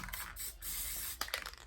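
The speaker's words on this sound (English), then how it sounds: "spray of basting spray on the back side of my cork" Faint, short hissing bursts of basting spray from an aerosol can land on the back of a cork cutting mat, with a soft click between sprays.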